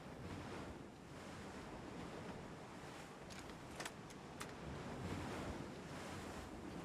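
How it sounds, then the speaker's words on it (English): Ocean waves in the video game PUBG surge in a steady, washing roar, with wind noise and a few faint clicks mixed in, and no voices. "The waves are so loud,"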